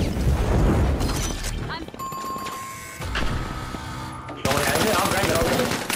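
Heavy gunfire bursts from the video game The Finals, loud and repeated with sharp blasts and debris crashes, mixed under game effects and a player talking.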